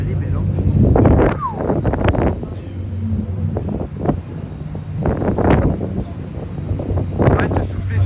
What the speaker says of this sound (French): Arrête de souffler sur la cam, on n'entend pas, mais c'est qu'il y a du vent, les gars, on est en hauteur.